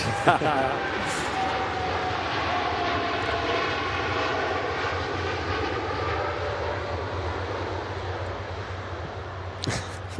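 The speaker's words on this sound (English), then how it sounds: "Another heavy aircraft taking off at the moment. Tui Dreamliner." A TUI Dreamliner heavy jet roars steadily during takeoff at Manchester Airport, a sustained engine rumble heard from a distance while voices talk in the background.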